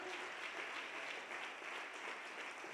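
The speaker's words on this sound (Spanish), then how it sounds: "Dele ese aplauso fuerte al Señor." A church congregation gives a sustained round of applause during a worship sermon, an even, continuous crowd clapping that sounds faint and distant.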